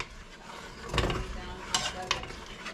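Food being stirred in a pot ahead of pork chops over rice with mushroom soup, faint scraping and a few soft clinks of a utensil against the pot over a low sizzle.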